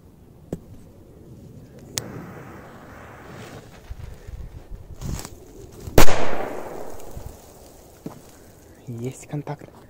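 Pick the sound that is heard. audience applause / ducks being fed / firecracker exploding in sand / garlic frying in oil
firecracker exploding in sand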